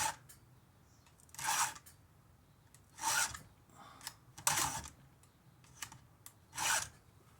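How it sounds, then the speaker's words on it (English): A hand file rasps across the teeth of a chainsaw chain in four separate strokes, each short grinding burst followed by a pause, close up and with no voices. "you can hear the file struggle when I first go into one of these"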